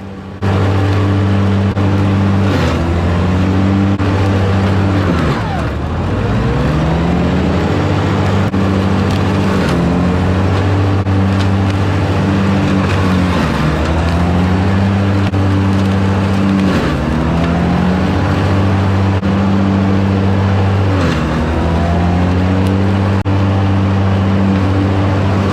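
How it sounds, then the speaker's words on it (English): A John Deere 1025R compact tractor with a 60D mower deck scalps hills, its steady loud engine drone dipping and straining several times as the blades bite into the ground, with no talk over it. "you're gonna see me scalp some of these hills with the mower"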